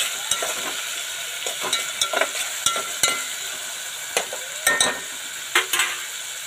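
Spices temper in hot oil for masala Maggi, a steady close sizzle broken by repeated sharp scrapes and taps of a spoon stirring in the pan at an uneven rhythm, no voices.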